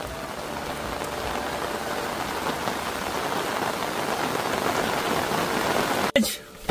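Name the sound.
heavy rain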